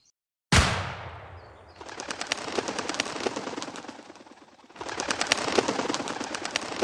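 Gunshots fired while hunting birds at a pond in the Menar wetlands, one sharp loud crack followed by long rapid trains of close, crackling bangs in two bursts.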